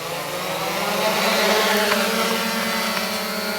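The electric motors of a 3DR Iris+ quadcopter drone spin up as it throttles for takeoff, a loud, steady, close whine with layered rising tones and no talking.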